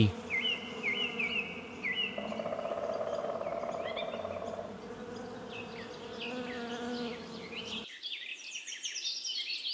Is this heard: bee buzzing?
yes